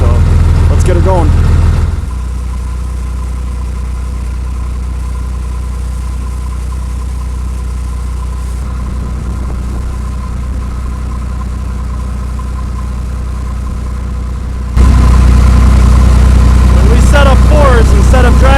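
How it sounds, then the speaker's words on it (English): A John Deere 2940 tractor engine idling steadily with a constant low drone, loud and close, with a brief change in engine tone near the start and end. "I've swapped out the loader tractor for the 2940"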